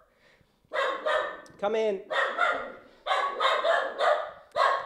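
A dog barks heavily in repeated loud bursts close by, indoors as a visitor arrives, with a person speaking briefly between the barks.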